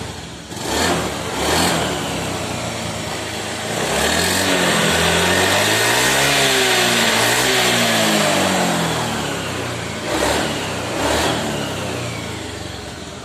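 A Honda Vario 110 fuel-injected scooter engine runs after a code 52 fault reset, idling close by and then revving up in a smooth rising and falling sweep before it settles back.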